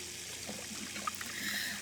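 Water trickles and splashes softly as a character washes dishes using water from a bucket in a video game, a faint, steady dribble with a few small splashes and no talking.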